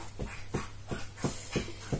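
Dogs at the beach make short repeated bursts, about six evenly spaced huffs or pants over two seconds, close and fairly loud against a steady background hiss.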